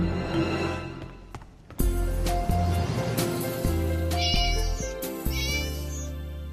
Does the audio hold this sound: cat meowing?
yes